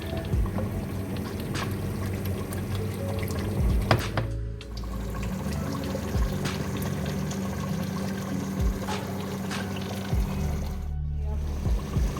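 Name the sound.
hot water pouring into cooking pot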